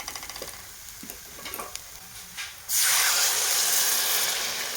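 Brinjal curry masala being stirred in a hot pan, with a few scraping strokes. Then water is poured in, bursting into a loud, sustained hiss and sizzle that fills the last two seconds.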